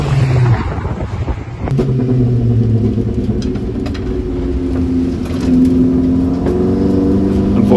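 A Saab 9-5 Aero track car accelerates hard on a straight while overtaking another car, its engine droning loud and close with rising harmonic tones after a gear change.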